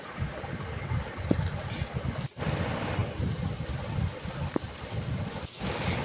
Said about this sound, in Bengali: কড়াতে তেলটা গরম করে একে একে লুচিগুলো আমি ছেড়ে দিচ্ছি